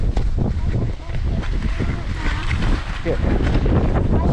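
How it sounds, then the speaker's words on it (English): Strong wind gusts buffet the microphone at the top of a ski run at Kirkwood, a loud, rough low roar that surges and fades, with a skier using a makeshift sail and a brief spoken word. "there's a lot of wind at the top here"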